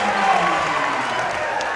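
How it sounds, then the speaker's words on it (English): Loud, dense crowd noise at a college basketball game between the NU Miners and Ponderosa Bruins, fans cheering and clapping steadily after a corner three-pointer cuts the lead to one, a continuous roar for the whole stretch. "Crowd goes wild."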